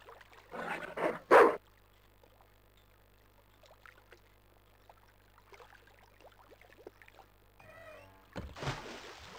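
A dog plunges into water in the Broken Sword 2 video game, with two loud splashy bursts early on, quieter watery movement, then a brief trill and another big splash near the end.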